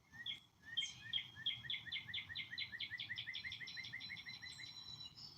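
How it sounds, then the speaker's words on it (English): Cardinals sing in a backyard, a clear run of rapid repeated whistled notes rolling into a long trill, moderately near over a faint low background rumble. "You can listen to the birds, though."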